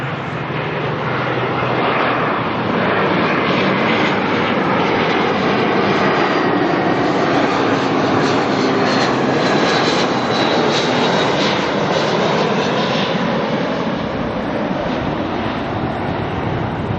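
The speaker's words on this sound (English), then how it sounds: "we'll watch Jetstar land instead" A Jetstar airliner landing at Auckland Airport gives a loud, steady jet-engine roar that holds unbroken throughout, with a faint shifting whine in the mix.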